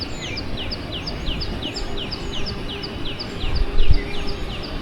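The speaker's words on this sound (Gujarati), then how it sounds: "આમ ચકલી બોલે છે" Sparrows chirp in a rapid run of short, bright repeated notes across a stormy-weather outdoor scene, steady and moderately near over low rumbling background noise, with a brief louder thump near the end.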